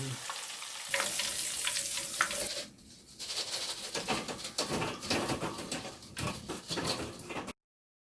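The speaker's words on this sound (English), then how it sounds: "we've got our fish all fried" Fish for tacos fries in lard, a loud continuous crackling sizzle with a brief dip near the middle before the bubbling resumes, then cuts off abruptly.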